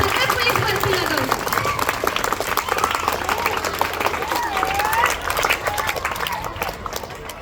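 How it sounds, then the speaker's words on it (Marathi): Loud, sustained applause and clapping from an audience at a police recruitment academy felicitation event, a dense steady wash of claps lasting throughout and tapering slightly at the end. "जोरदार टाळ्या."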